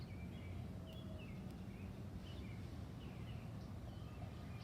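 Wild birds chirp in short, repeated high calls outdoors in a city, faint and somewhat distant over a constant low urban hum.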